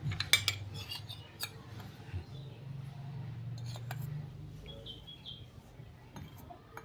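A spoon stirs turmeric into water in a bowl, with quick metallic clinks and scrapes at the start, then quieter intermittent taps over a low hum and faint bird chirps in the background.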